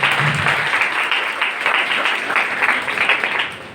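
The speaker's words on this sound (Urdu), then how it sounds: "جی بالکل تالی بجا سکتے ہیں" Audience at a Quaid Day event in a government women's college in Karachi claps loudly and continuously, a close, rippling burst of many hands that swells and dips slightly without any talk.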